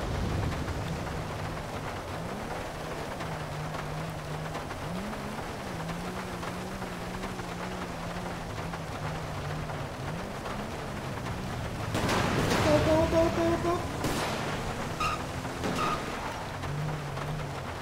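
Steady rain hiss with a louder rumbling thunder burst midway, heard at night in a GTA 5 police patrol game, over low engine drone and faint radio-like tones.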